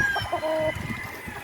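Talisayin-colored chickens, a hen and a rooster in a backyard breeding setup, cluck in short, close, moderately loud bursts, with no talking.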